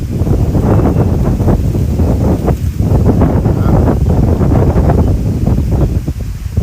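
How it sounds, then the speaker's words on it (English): Strong, continuous wind from a deadly tornado roars and buffets the microphone, a loud, unbroken rushing with gusty swells and no voices. "You could feel that wind change direction, couldn't you?"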